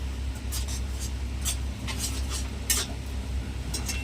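A spoon scrapes and taps against a pan while shrimp-stuffed pointed gourd masala with sugar is stirred and sautéed, with irregular close scraping strokes over a low steady hum.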